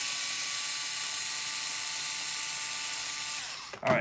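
A small powered driver spins out shock screws on an RC axle assembly, a steady high whine held for several seconds, close, before winding down with a brief clatter.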